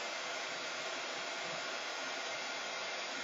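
A heat gun melting embossing powder on a metal soda can tab, giving a steady, even blowing hiss like a hair dryer that runs unbroken and fairly close throughout.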